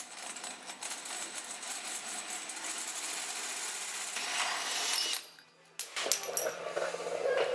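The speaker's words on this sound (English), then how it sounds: "So now I'll start cutting the hole for the bushing." A power drill with a drill bit cuts a hole for a bushing on a Studebaker gasser's tilting front end, giving a steady, fairly faint grinding whir that stops briefly, then resumes with rougher scraping.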